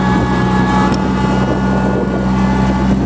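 A Kubota F3060 mower engine running steadily at a constant idle hum, loud and close, with wind buffeting the microphone and no voices.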